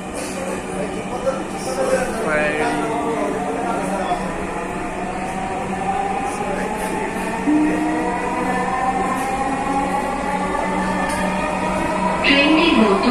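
A Dhaka metro rail train runs along its line in Bangladesh, a steady rolling rumble with rising and falling electric motor whine heard from inside the carriage, continuous and moderately loud, with a voice speaking over it.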